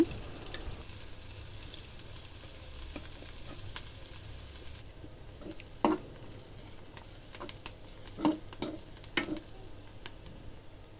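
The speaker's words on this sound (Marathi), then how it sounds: "आता मी एक मध्यम आकाराचा कांदा चिरून घेतलेला आहे तो सुद्धा चांगला गुलाबी कलर आहे तर चांगला व्यवस्थित परतून घ्यायचा" Chopped onion sautéing in a pan for a dhaba-style paneer and peas curry, with a soft steady sizzle and occasional sharp scraping clicks as it is stirred, fairly quiet with no talking.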